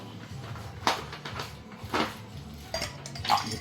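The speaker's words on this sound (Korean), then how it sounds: "그 전에 얼음 넣어야 되는구나." Ice cubes go into a glass for a Bombay Sapphire gin highball, heard as a few close, bright clinks and knocks at irregular intervals over a quiet room, with no talking.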